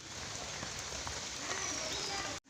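Continuous rain falls in a steady, even hiss of drops on surfaces, moderately quiet and unbroken, cutting off abruptly near the end.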